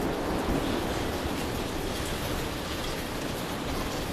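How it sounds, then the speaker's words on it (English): Heavy rain pours down steadily and loudly in a gale, a dense, constant hiss of drops with no gaps or voices. "Starts raining very hard at 18:15."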